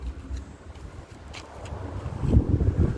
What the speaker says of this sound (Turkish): Bugün rüzgar var. Her tarafı birbirine karıştırıyor.